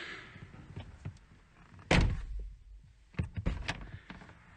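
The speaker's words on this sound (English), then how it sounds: "we're just doing a quick door panel removal and reinstall to get this thing installed" A car door panel is pried off and refitted, giving a few hollow plastic thunks and clicks, one sharp and loud, with quieter knocks and rattles against faint background noise.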